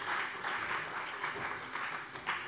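Members clap during a plenary session of the Hessian state parliament. The applause is fairly soft and somewhat distant, a sustained patter of many hands that rises in several swells.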